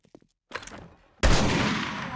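A single loud gunshot from the zombie survival game 7 Days to Die, War of the Walkers mod, bursts out sharply and rings off in a long decaying tail, preceded by a few faint soft clicks and near-silence.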